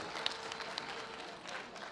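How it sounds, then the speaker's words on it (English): An audience at the World Bench Press Championships applauds women lifters, a faint, steady wash of clapping from a distance across the brief moment. "One more round of applause for these three fine young ladies."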